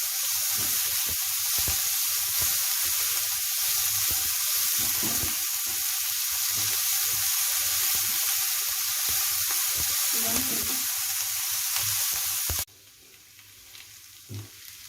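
Paneer frankie filling sizzles and fries steadily in a hot pan, a constant close crackle with occasional stirring, ending abruptly with a quieter stretch.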